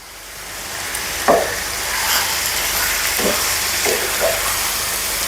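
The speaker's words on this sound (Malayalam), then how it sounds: "ഇതൊന്ന് ഇളക്കി കൊടുക്കാട്ടെ അതിൽ ഈ എണ്ണ ഒന്ന് ഇതാവണ രീതിയിൽ എണ്ണ ഒന്ന് പിടിക്കുന്ന രീതിയിൽ ഇതൊന്ന് ഇളക്കി കൊടുക്കുക" About a kilo of chicken is turned in hot oil in a pan for a Kerala-style curry. Steady frying sizzle runs throughout, with a few distinct scraping stirs up close and no voices.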